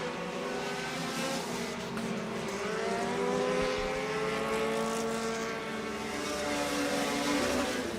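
Modified race cars drone around a track, their engines a loud, sustained, wavering roar as the pitch shifts up and down with passing cars, with no talking over it.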